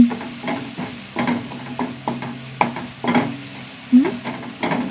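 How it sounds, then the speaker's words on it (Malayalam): Chutney ingredients sautéed in a pan: a spatula scrapes and stirs in repeated, evenly spaced strokes over a soft sizzle, close up and moderately loud. "സൂപ്പർ ചമ്മന്തി ഇനി മാറ്റണം നന്നായി വഴറ്റണം"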